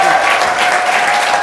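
Studio audience at a talk show clapping steadily, a dense loud burst of applause with faint voices underneath, sustained throughout.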